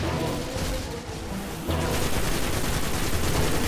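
Gunfire in the video game Destiny, a dense continuous barrage of rapid shots and booms that grows louder partway through, filling the whole stretch with no talking.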